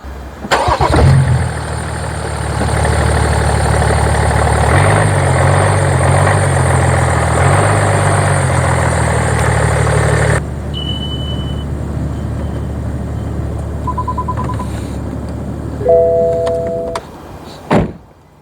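A BMW 5 Series E61 525d Touring automatic diesel starts and idles loudly nearby with a clattering rumble, revving slightly as it creeps forward, then cuts off, followed by a few electronic chimes and a door thud.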